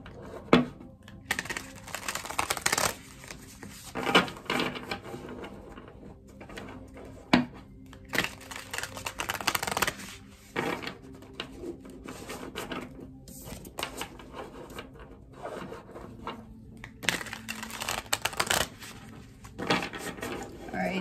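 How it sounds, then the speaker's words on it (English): A deck of tarot cards is riffled and shuffled by hand in repeated bursts of dense papery flutter and clatter, close up, with a voice talking between the shuffles. "just gonna get one more shuffle here"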